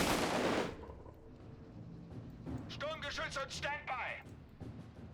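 Gunfire from the World War II strategy game Company of Heroes 3, a loud broadband burst at the start that fades into a softer mix of battle noise, with a voice talking over the later part.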